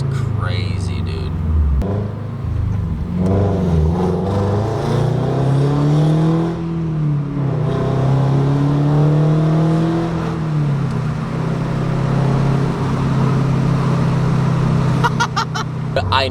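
A Toyota GR86/BRZ fitted with Tomei UEL unequal-length headers gives a loud, deep exhaust rumble that rises and falls with throttle, heard continuously from inside the car, with a voice speaking over it.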